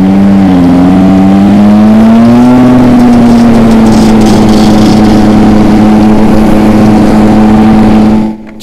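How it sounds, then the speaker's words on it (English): A 70cc street-race Jog scooter with a fault in its clutch area runs with a loud, continuous engine drone and a steady whining tone that dips and rises slightly before cutting off abruptly at the end. "It's making a funny noise from the clutch area."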